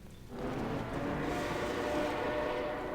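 In the Half-Life 2 video game, a train rumbles past with a steady, loud, broad roar that swells after a quiet start and holds to the end.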